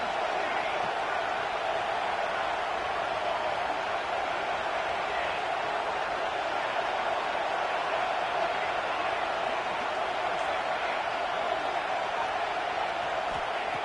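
A steady, dense college football video game crowd roar fills the whole stretch, loud and unbroken, like a packed stadium building noise without pause during a red zone defensive stand.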